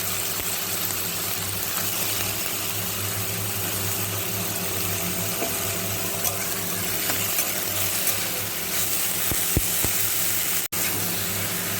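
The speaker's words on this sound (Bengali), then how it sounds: "7টা ঝিঙেকে দিয়ে ভালো করে নাড়াচাড়া করব" Sliced ridge gourd frying in a pan with black cumin and a dried chili, giving a steady low sizzle. Occasional stirring clicks and a sharp knock near the end break the hiss, and no one talks.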